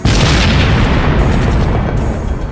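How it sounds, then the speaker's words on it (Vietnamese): A hand grenade detonates in a room at close range, a loud, dense blast roaring steadily for a couple of seconds with no voices over it. "Một tiếng nổ chát chúa làm rung chuyển cả một vùng"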